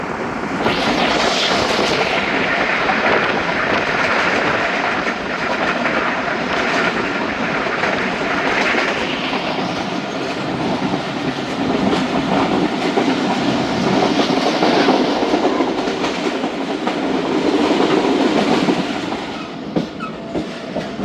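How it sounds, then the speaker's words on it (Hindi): Karachi Express passenger train running on rails, heard from aboard as a steady, loud rumble with rhythmic clattering of wheels over track joints, continuous throughout with no talking. "हमारी ट्रेन पास हो रही है मियाँ चंदू रेलवे स्टेशन"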